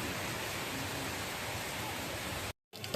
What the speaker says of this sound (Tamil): நினச்ச மாதிரி மழை செம்மையாக பெய்யுது